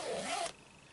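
A zipper is pulled along a knitting project bag, one quick rasping run that stops abruptly about halfway through, followed by quiet room tone.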